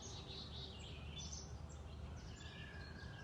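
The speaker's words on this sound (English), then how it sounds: "being able to sit in nature and hear the birds chirping" Birds chirping outdoors in Kansas City, faint high tweets repeating over a steady bed of ambient outdoor noise, distant and soft rather than close.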